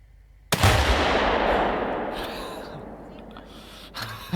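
A homemade Tannerite target is shot and explodes outdoors in one sudden, loud boom that rolls and decays over several seconds, followed by a brief gasp or voice near the end.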